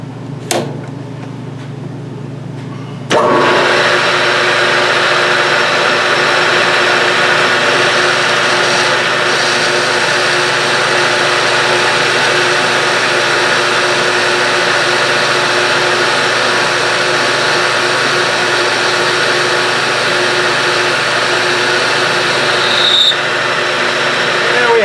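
A power tool grinds a bevel onto the end of a steel piece being prepared for welding, a loud, steady abrasive whine running continuously for over twenty seconds after a brief start-up.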